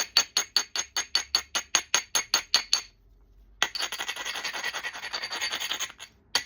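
Seaside flint knapping: a hand-held rock strikes the flint edge about a dozen times in an even, close rhythm. After a short pause comes a longer, steady gritty grinding and rubbing of rock along the edge.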